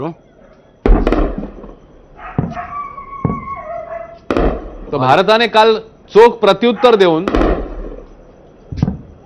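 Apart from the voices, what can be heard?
gunfire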